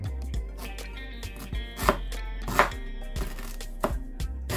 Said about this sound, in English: so just cut it up